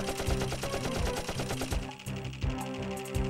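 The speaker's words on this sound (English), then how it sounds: "The machine gun will actually kind of... I'll briefly show that." Rapid machine gun fire from the video game Dark Cloud, a dense loud rattling burst running almost without pause, with a brief dip midway before the firing resumes.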